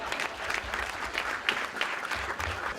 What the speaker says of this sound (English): you gave me a big round of applause